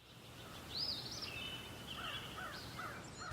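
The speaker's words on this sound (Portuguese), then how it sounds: "No jardim, é fácil se inspirar com o canto dos passarinhos." Small birds chirp and call faintly in a garden, with a few scattered high whistles and short notes over a soft, steady outdoor background.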